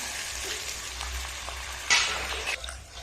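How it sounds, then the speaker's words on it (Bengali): Water is poured into a hot pan of fried kalai dal and green jackfruit on a village-style stove, bursting into a loud hiss over a low sizzle that then settles and fades. "এরকম করে জলটা দিলাম।"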